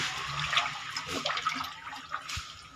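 Water splashing and gurgling while the water is changed in a cement fish pond holding cichlids, uneven close pouring and trickling with no talking.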